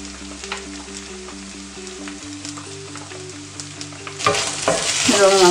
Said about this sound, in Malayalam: ഇത് ഹൈ ഫ്ലെയിമിൽ തന്നെ ഇട്ടിട്ട് മിക്സ് ചെയ്താൽ മതി.